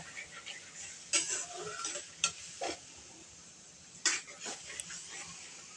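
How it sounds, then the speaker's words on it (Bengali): A spice paste with salt and green chilies being fried in a pan sounds as a soft low sizzle, broken by a few sharp stirring scrapes and knocks against the pan. "এবার মশলাটা ভালোভাবে কষিয়ে নেব"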